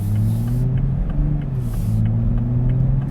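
A 2021 Toyota Supra's engine idles with a deep, steady rumble and throaty exhaust burble, close and continuous, with a couple of brief hissy bursts layered on top.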